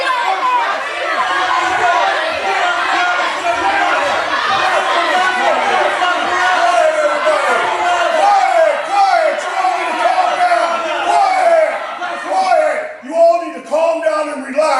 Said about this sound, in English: an unruly crowd beginning to gather at the steps of the Orange County Correctional Facility